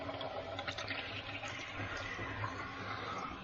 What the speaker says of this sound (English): we should have the pump starting